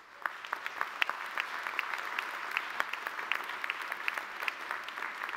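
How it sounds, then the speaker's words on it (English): A hall of graduating students at a university commencement claps for themselves, a steady dense wash of applause with a few sharper individual claps standing out, moderately distant and continuous throughout. "Give yourselves a round of applause for being so forward-thinking about this"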